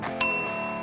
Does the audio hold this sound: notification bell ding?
yes